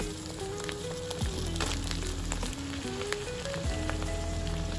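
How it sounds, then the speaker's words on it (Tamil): Small cauliflower florets, first soaked in hot water, fry in a pan of oil with a steady crackling sizzle that runs through the whole stretch, dense and close with scattered pops. "இப்போ நம்ம வெந்நீரில் ஊற வச்சு அந்த காலிஃப்ளவர் நம்ம சேர்த்துக்க போகிறோம்."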